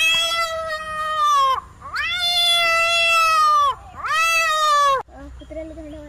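A person mimics fighting cats with three long, loud, close wailing yowls that rise and fall, followed by a quieter, lower growling cry.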